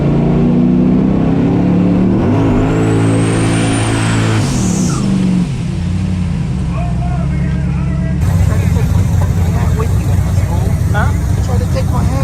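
A 585-class no-prep drag race car's engine roars loud and close during a burnout, rising and falling in pitch with harsh revs, then settling into a steady rumbling drone with crowd and track noise around it.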